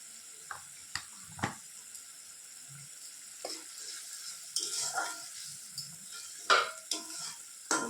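Spices with chili powder sautéed in oil, a faint low sizzle under a quiet background with scattered scraping stirs and soft clinks of a spoon against the pan.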